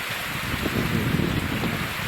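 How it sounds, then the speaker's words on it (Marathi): Continuous rain patters steadily on a surface, a dense even hiss with no voices. "पाऊस चालू असल्यामुळे आपल्याला पाणी करता येत नाही"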